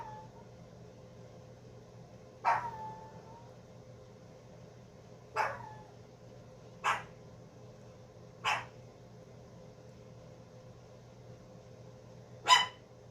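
A pet dog barks five times in separate single sharp barks spaced a couple of seconds apart, moderately close, over a quiet indoor hum with no talking.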